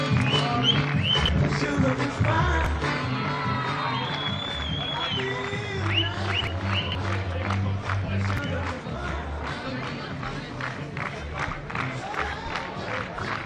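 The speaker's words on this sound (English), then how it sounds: "Applause for the team, for the both teams of Portugal and Denmark." A crowd claps and cheers in a large arena after a Denmark versus Portugal match, with scattered shouts and voices mixed in, steady and fairly loud throughout.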